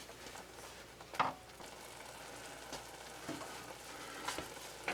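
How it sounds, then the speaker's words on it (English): Chicken crepe filling simmers and sizzles softly in a pan, a steady low bubbling with a few sharper spits and pops scattered throughout, alone with no voices. "I'll just let that simmer for another minute"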